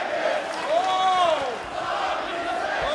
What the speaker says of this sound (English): we got a sloppy seconds chant going by this WrestleCon crowd